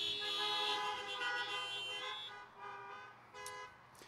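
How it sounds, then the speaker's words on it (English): A car horn sounds in a couple of beeps, faint and somewhat distant, fading out after the first seconds. "beep, beep."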